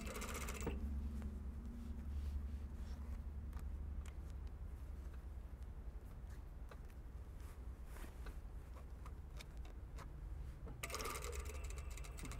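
A sewing machine stitches a gathered puff sleeve into a shirt armhole, running steadily and continuously at close range throughout.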